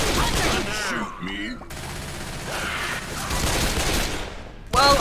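Rapid gunfire bursts from the zombie shooter Left 4 Dead, loud and close, mixed with game effects and a gasp, with people talking over much of the action.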